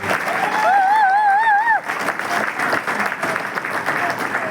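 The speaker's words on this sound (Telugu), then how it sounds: "బువ్వ తింటే ఇట్లా కొడతారా చప్పట్లు?" Audience applause at a public gathering fills the space, loud and dense from the start, with a whistle-like warbling tone riding over the first half before the clapping continues steadily.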